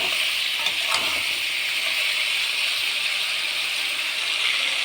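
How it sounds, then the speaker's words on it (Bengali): Chicken meat stirred and fried in a pan sizzles with a steady, close hiss, broken by a few faint scraping clicks from stirring. "এবার আমি নেড়ে ঢেলে দিয়ে আর কি এইভাবে আমি মাংসটা আর এক মিনিট মতন দিয়ে নেব"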